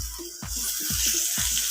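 Chicken frying with fried onions for biryani, a steady bright sizzle with several scraping stirs of the spoon through the pan, close and continuous with no talking.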